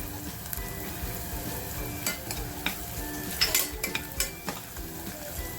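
Spices and hing sizzle steadily in hot oil while being sautéed for misal pav, with a continuous frying hiss and occasional stirring scrapes and clinks of a spoon against the pan, close and clear with no talking.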